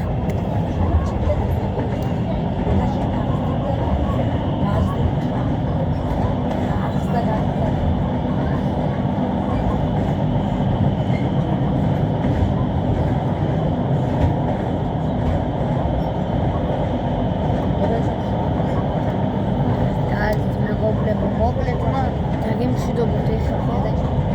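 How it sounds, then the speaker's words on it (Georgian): A passenger train travelling from Tbilisi to Samtredia, heard from inside, gives a loud, steady rumble and rattle of wheels on track throughout, with faint voices underneath. "მეგობრები, მატარებელი გაჩერდება"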